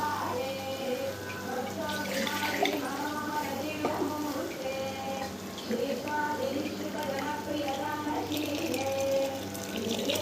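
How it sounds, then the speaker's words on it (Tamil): Water runs and splashes steadily into a pot of vegetable kuruma curry, with a voice speaking over it and faint kitchen clatter in the background. "கொஞ்சம் தண்ணி சேர்த்துக்கலாம்."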